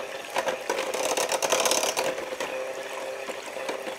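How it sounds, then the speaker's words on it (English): An electric hand mixer whips cream in a bowl, a steady, close mechanical whirr with rattling beaters that holds a constant, fairly loud pitch throughout. "we got our fancy hand mixer here, and we're gonna mix this until it starts to peak"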